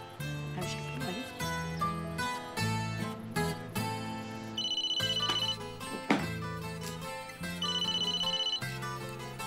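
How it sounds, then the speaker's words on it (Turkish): A mobile phone rings with a repeating melodic ringtone during an outgoing call, loud and alone, the tune cycling in clear bursts with short gaps between them. "Ben Fırat'ı arayayım hemen"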